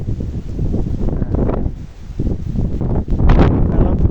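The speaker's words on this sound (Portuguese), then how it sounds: "Vai ficar um barulho do vento aqui, mas é o vento assoprando." Strong wind buffets an outdoor microphone in a loud continuous roar with rising and falling gusts, rain falling in the distance, no clear talk over it.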